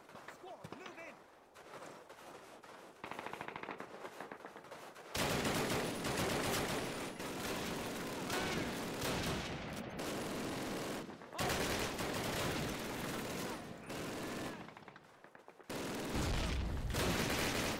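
Automatic weapon fire in Call of Duty's British campaign epilogue at a V-2 rocket site: loud, dense bursts of rapid gunfire come in long blocks separated by brief quieter gaps, with other battle noise in between.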